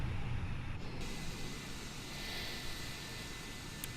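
Airbus A320neo engines in a flight simulator game spool up, a faint, steady low rumble with a thin high whine holding throughout.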